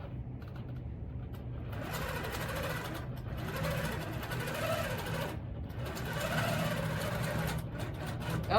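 A Handi Quilter Pro-Stitcher quilting machine stitches a mini fabric tote, its steady mechanical hum and rapid needle rhythm running continuously and close, with brief pauses in the motion.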